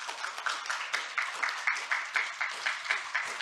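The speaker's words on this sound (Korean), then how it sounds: "오늘 네 분 연사 은희경, 루민, 장희지, 가토 선생님 박수 부탁드리겠습니다" Audience applause for speakers at a forum culture session in a hotel hall, steady broadband clapping with a regular pulsing rhythm, moderately near and sustained throughout with no talk.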